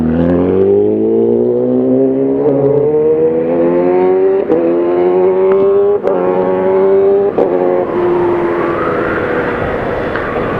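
A Kawasaki ZX10R superbike on a highway from Mumbai toward Goa, its loud engine note climbing steadily in pitch as it accelerates close behind, with a few brief gear-change dips along the way.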